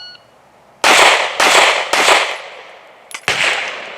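Four sharp pistol shots from a Walther PDP F or Glock 19 crack out in a timed shooting drill, three in quick even succession and a fourth after a short pause, loud and close with brief decays.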